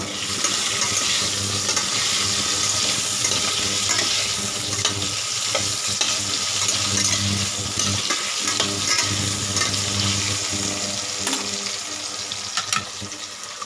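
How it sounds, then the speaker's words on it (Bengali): Potatoes frying in a pan with garlic paste added, producing a continuous close sizzle with scraping stir sounds and brief clinks, and no speech over it. "এটা ভাজা হচ্ছে আলুগুলো।"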